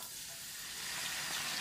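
Steady sizzling of pork frying in oil in a hot pan, a dense hiss with no talking, holding even throughout.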